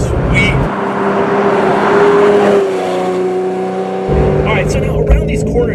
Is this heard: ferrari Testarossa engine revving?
yes